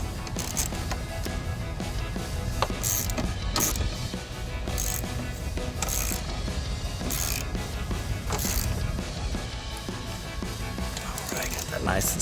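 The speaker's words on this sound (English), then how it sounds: "reinsert our 8mm bolt down here in the corner" A ratchet tightens an 8mm bolt at the bottom corner of the passenger-side grille on a 2021-2023 Ford F-150, its clicks running through a steady busy mechanical background for about twelve seconds.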